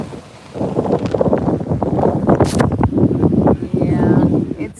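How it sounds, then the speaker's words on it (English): Strong gusts buffet the microphone on a beach as a storm approaches, a loud continuous rumbling roar of wind noise with a person talking over it. "It's a little windy."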